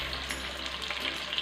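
Chopped onions fry in oil with cumin in a pan, a steady close sizzle with faint stirring crackles.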